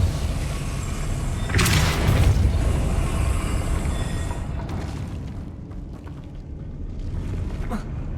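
A Depulso spell cast in the Hogwarts Legacy video game on PS5 lands as a loud, booming magical blast with a whooshing burst, followed by rumbling debris and fainter secondary impacts against a steady game ambience.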